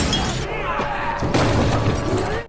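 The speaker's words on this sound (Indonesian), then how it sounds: "barudak Mighty bermain curang dengan ngabaledokeun botol kepada Rude Boys secara brutal" Glass bottles smashing during a brutal gang street fight in a film: loud, bright crashing and shattering glass across the whole moment, with sharp breaking bursts and debris, then cutting off abruptly.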